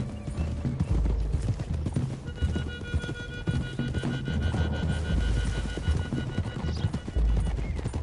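Horses galloping in the video game Red Dead Redemption 2, a loud, close drumming of hooves in fast irregular beats, with a whinny rising above them and low rumbling underneath.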